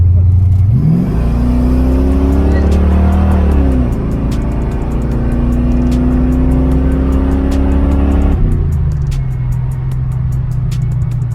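Close, loud car engine revving through the gears as it accelerates hard, pitch climbing, dropping at each shift and climbing again, with a rough steady drone under clicking noises.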